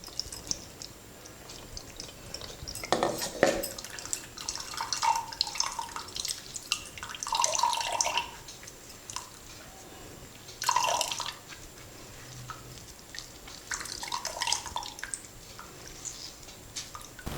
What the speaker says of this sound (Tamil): நம்ம அரைச்சிருக்கிற அந்த வெத்தலை ஜூஸை இதில் போடுறோம்.